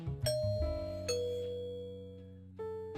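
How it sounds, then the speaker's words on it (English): Three bright chime tones ring out one after another, each sustaining and slowly fading, like a doorbell pressed repeatedly in a quiet space. "The sound of the doorbell echoes loudly as I ring it."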